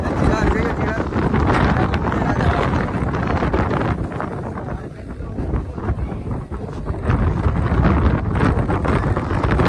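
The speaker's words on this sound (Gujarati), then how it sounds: "શું વાયરો આવે જોરદાર" Strong wind sweeps across a hilltop near Palanpur, roaring loudly and buffeting the microphone in continuous gusts while people talk underneath.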